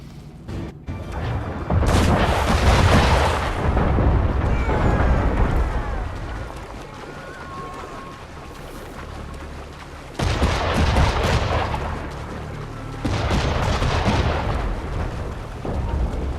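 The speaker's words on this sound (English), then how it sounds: "don't fall on the cannons, because when they fire, they'll have a hole through you." Cannons fire in the video game Assassin's Creed 3, booming blasts that roll into long rumbling decays, three heavy bursts spaced across the stretch with no talk over them.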